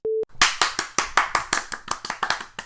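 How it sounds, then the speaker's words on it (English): Clapping in about a dozen sharp, evenly spaced claps that ring close and loud, coming after a short electronic beep. "Round of applause."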